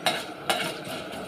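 Cumin and pepper are tempered in a pan for mint chutney, with two sharp utensil clinks against the pan over a soft, steady frying hiss.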